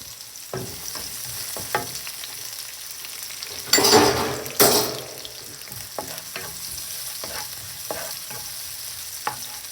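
Onion sautéing in a pan for a soup, a soft steady sizzle broken by two loud bursts of hissing and scattered utensil stirs, close with no voices.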